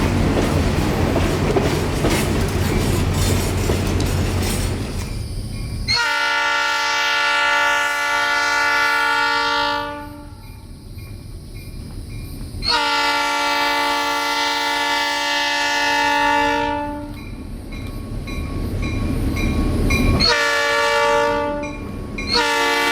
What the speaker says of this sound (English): Passing by right now is the 6324, an ex-Ringling Brothers elephant car